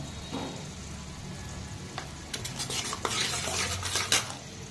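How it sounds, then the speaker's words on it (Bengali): Spice masala with salt, turmeric and chili powder fries in oil in a metal pan, a steady sizzle under repeated spatula scrapes and clinks that grow busier toward the end. "আর মশলাটা ভালো করে কষিয়ে নেব।"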